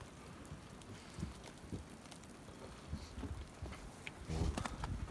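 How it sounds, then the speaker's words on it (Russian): Light rain patters steadily outdoors in the taiga with soft wind noise, quiet and distant, with scattered drips growing slightly louder toward the end. "сейчас дождь идет"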